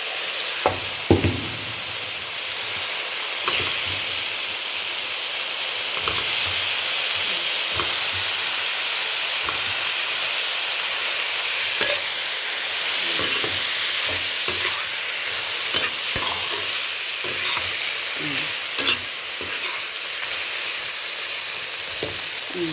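Shrimps fry in a pan with red and yellow bell peppers, a steady loud sizzle and hiss throughout, broken by scattered clinks and scrapes of stirring.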